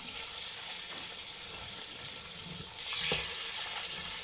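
Meat, about 1.5 kg, added to golden fried onions in a pressure cooker for nihari, sizzles steadily at close range with a continuous bright hiss, briefly louder near the end, with no voices.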